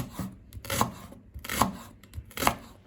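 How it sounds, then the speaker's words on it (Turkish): A knife chops through leeks on a board in a steady rhythm, each crisp slicing stroke close and moderately quiet, with soft rasping between cuts. "Şimdi pırasalarımızı doğruyoruz."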